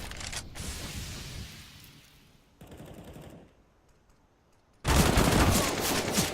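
Counter-Strike: Global Offensive gunfire in bursts: rapid automatic shots, a pause, then another loud volley that keeps going to the end.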